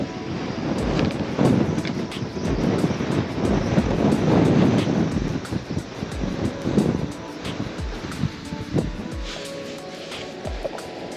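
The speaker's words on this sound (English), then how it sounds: "Windy as heck" Strong wind buffets the microphone in heavy, roaring gusts, with a low rumble and occasional thumps throughout; no one speaks.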